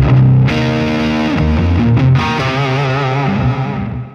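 An electric guitar runs through a Line 6 POD Express set to distortion, giving loud, sustained, saturated chords and notes that ring for about four seconds with a brief pick attack partway through and no talking.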